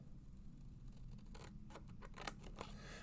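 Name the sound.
Christopher Allen detail scissors cutting paper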